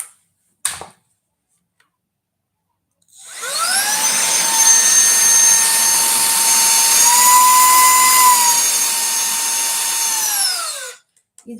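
A handheld cordless air duster and vacuum cleaner starts after a couple of clicks, spinning up to a loud, steady high-pitched motor whine that holds for about seven seconds, then winds down and stops.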